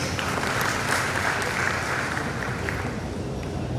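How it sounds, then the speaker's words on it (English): Another round of applause at a live-streamed greening organisation event, steady full-room clapping from a large crowd, loud and continuous throughout. "Another round of applause."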